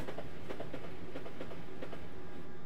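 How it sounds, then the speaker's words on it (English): A commuter train of around eight to ten cars rolls past on the London to Brighton line in Train Simulator 2014, its wheels clicking rhythmically over rail joints in a loud, close, steady clatter. "Fairly long train, I believe was that about 8 cars"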